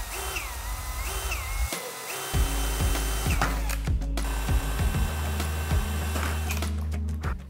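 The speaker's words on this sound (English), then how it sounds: "you're gonna drill 2 3/8 holes, one on this side and one on that side, just right through the plastic" A power drill bores two 3/8-inch holes through the plastic shutter assembly of a Roush grille on a 2015-2017 Ford F-150, with repeated close, loud whirring bursts that rise and fall in pitch as the bit cuts.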